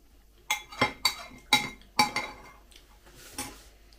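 Metal utensil clinking and scraping against an old Soviet-era cast iron frying pan while cooking with hemp oil, five sharp separate clanks in the first two seconds, then softer stirring, close and fairly quiet.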